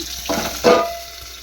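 Chopped onions cook under a lid in a pan for a wheat rava dosa, giving two short bursts of close sizzling hiss in a brief moment with no speech.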